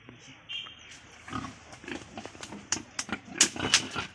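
Pigs on a local village pig farm in Assam grunt and snort in short irregular bursts, close by and growing busier toward the end.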